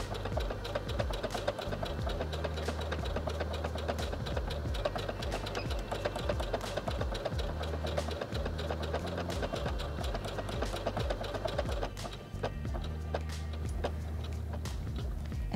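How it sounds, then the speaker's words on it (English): A Heavy Duty 6800C sewing machine stitches a tulip embroidery design with a tie-off, whirring in a steady, fast, close rhythm that pauses briefly near the end before resuming. "I'll begin sewing the tulip, and while the tulip is stitching, I'll press my tie-off button"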